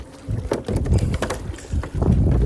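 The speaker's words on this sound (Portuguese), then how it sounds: "Tá ventando bem" Strong gusting wind buffets the microphone on a fishing kayak out on the water, coming in loud, uneven bursts with brief lulls between them.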